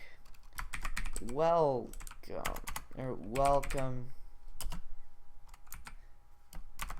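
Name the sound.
typing on a computer keyboard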